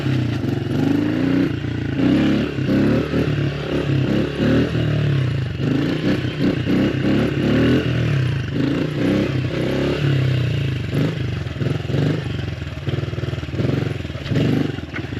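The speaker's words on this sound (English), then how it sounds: "But first, let's get a wheelie in." A Honda CRF110 dirt bike revs hard and steadily throughout, its small engine buzzing loud and close with mechanical clatter and scraping mixed in, pitch rising and falling as the throttle works during a wheelie.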